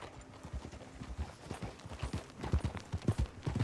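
Hooves of a small white horse clip-clop steadily in Red Dead Redemption 2, a brisk uneven rhythm of close, thudding steps that grows louder and denser toward the end, with no talk over it.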